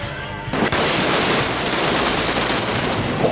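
RISKRUNNER gun fired in the Decaying Winter game, a sharp onset leading into a continuous, dense roar of rapid automatic fire that holds steady and loud for about three seconds.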